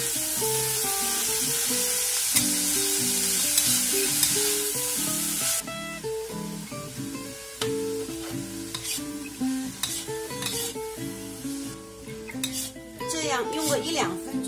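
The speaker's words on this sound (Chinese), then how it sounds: "用个一两分钟翻炒到它缩水" Napa cabbage stir-fries with shredded pork and mushrooms. Bright sizzling and spatula tossing sit under steady background music, and the frying hiss fades partway through.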